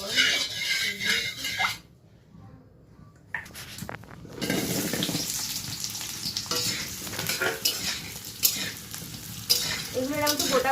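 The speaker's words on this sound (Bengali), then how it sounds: "এগুলো আমি একটু গোটা গোটাই ভেজে নিচ্ছি" Chopped onion pieces hitting hot oil in a very hot wok, giving a loud, steady sizzle and crackle that briefly drops near the start and then resumes. A spoon stirs through it, and someone speaks over the frying.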